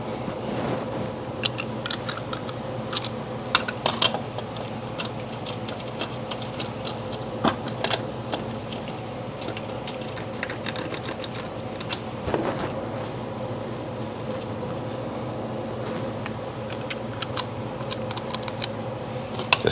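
A ratchet tightens the rear brake bolts on a Honda Goldwing motorcycle with a 19 millimeter socket, giving a steady close run of fast ticking clicks, with a few louder clacks, for about twenty seconds and no talking.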